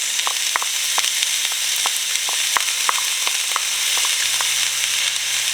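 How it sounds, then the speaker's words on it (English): Onions hit hot oil in a pan and fry with a steady hiss, punctuated by sharp crackles and pops at irregular intervals, close and clear with no talk. "The oil is good and hot. I'm going to add my onions."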